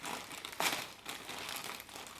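Packaging crinkles and rustles as someone struggles to unwrap a tightly packed item, with a sharper crackling burst early on and then steady close, soft crumpling to the end.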